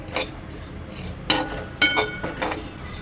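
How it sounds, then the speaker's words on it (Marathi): Cumin and coriander seeds roasting on low flame in a hot kadhai for thalipeeth bhajani, with a spatula scraping and clinking against the metal in a few short, sharp strokes amid soft sizzle. "सुरुवातीला आपल्याला जिरा आणि धने भाजून घ्यायचे आहेत"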